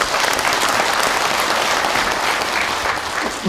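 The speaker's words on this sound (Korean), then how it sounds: "첫 번째 발표와 토론자께 큰 박수 한번 부탁드리겠습니다." An audience at a Confucian culture forum and debate applauds the first presenters and panelists, a dense, even burst of clapping that holds steady and then tapers off at the end.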